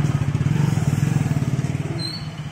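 A motorcycle idles close by, its engine putting out a steady, rapid low throb that stays loud and even for the whole short stretch, with no voices over it.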